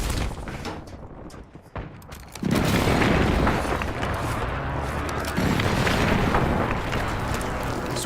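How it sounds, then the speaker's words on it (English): Airstrike in a Call of Duty match: scattered gunshots and pops give way to a heavy, rumbling burst of explosions that keeps roaring loudly to the end. "Hostile airstrike incoming."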